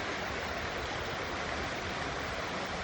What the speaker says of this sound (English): To listen to the water as it flows down the stream.